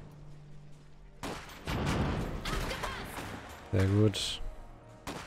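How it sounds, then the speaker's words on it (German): Bursts of gunfire and explosive impacts in the game Iron Harvest, loud and close, with a voice speaking briefly between them. "Die schießen auf uns!"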